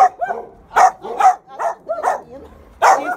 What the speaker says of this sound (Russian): Да, серьезные такие собаки. Спанильки, что ли?